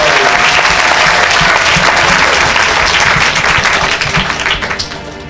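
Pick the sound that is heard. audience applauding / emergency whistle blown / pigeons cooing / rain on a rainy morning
audience applauding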